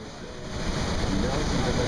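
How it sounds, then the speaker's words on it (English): Steady broadband roar of Niagara Falls waterfall, a loud continuous rushing wash of water with no speech over it. "These waterfalls are so dang loud that it's very difficult to talk over them"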